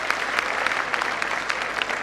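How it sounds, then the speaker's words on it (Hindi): Audience at a Jain community convention applauds to welcome a yoga teacher, with dense, steady hand-clapping from a sizable crowd throughout. "एक बार धीरेन्द्र जी के लिए, योगाचार्य जी के लिए ताली बजाकर उनका स्वागत"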